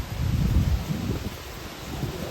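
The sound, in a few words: wind blowing on a mountain trail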